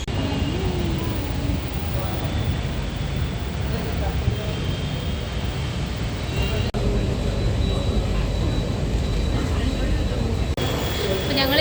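Steady rumble and broadband hiss at Kaloor metro station in Kochi, with train noise running throughout and a brief dip partway; people talk faintly in the background.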